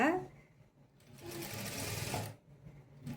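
A sewing machine runs a short burst of stitching back over an existing seam on a flared skirt, a steady mechanical whir lasting about a second, with a brief voice at the start.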